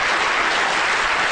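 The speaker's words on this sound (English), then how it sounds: "Big round of applause for those who got subject A" Applause breaks out in a lecture hall after a brain-themed demonstration reveal, a dense, even wash of clapping that stays loud for its brief span.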